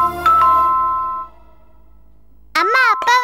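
A household calling bell chimes twice, a bright ding-dong tone that fades out, followed after a short silence by speech.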